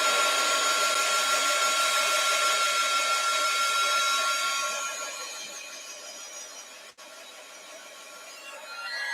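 A hair dryer blows steadily on ink paint during an art session, loud and even for about four seconds, then drops to a softer hum with a brief cut before rising again at the end, with no talk.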